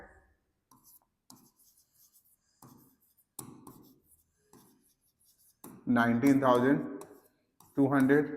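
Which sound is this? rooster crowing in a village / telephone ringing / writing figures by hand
writing figures by hand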